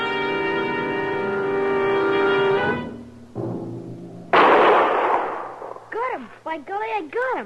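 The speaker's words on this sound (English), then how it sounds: "By golly, I got him. That was a good shot, Beanie." A single sharp rifle shot fired at a raccoon in an old-time radio western drama, a loud broadband burst that rings out after a sustained tone, followed by voices speaking.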